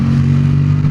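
A Yamaha XSR700 motorcycle fitted with a new aftermarket exhaust idles loud and close, a deep steady droning rumble with strong low harmonics and no change in pitch.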